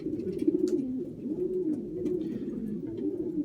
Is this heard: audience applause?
no